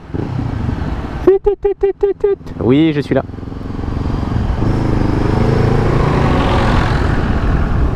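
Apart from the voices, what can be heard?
Honda CB500F four-cylinder motorcycle engine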